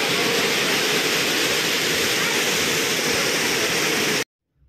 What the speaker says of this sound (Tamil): ஃபால்ஸில் தண்ணி நிறையா வந்துக்கிட்டு இருக்குது